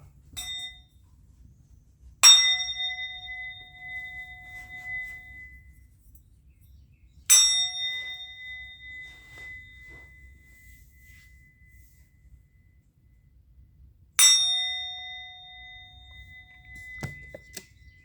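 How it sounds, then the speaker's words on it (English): A single bell is struck three times at spaced intervals, each strike a bright clear ring that hangs and fades slowly into near silence, with a faint low hum between the strikes. "I'm going to ring the bell."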